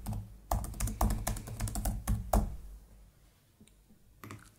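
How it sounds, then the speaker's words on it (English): Rapid, dense keystrokes clatter on a nearby computer keyboard for about two seconds as text is entered into a teleprompter program, then trail off into a few scattered taps. "We can either type information into the window"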